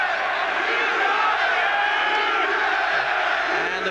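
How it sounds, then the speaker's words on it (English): A boxing arena crowd roars and chants in support of Chris Eubank, a dense sustained cheer heard beneath a commentator's voice. "the crowd there giving it the Eubank cheer"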